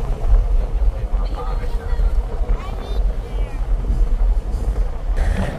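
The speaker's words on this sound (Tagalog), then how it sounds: "Ang lakas ng hangin." Steady low rumbling wind buffets the microphone throughout, with faint background voices and the drone of a moving vehicle underneath.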